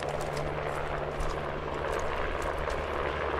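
A helicopter in the video game SQUAD flies nearby with a steady, droning rotor and engine hum that holds constant and fairly loud, with no voices over it.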